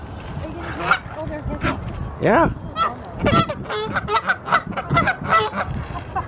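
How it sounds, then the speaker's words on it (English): Several geese honk loudly and close by in a park pond setting in Oregon, a run of harsh, repeated calls in uneven bursts, with a person's brief voice mixed in. "They're honking at you."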